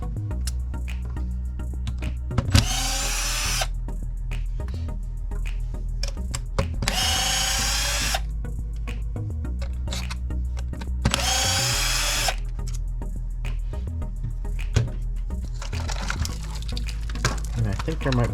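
Power driver backing screws out of the rear of an RC car, three loud whirring bursts of about a second each separated by pauses, with someone talking throughout.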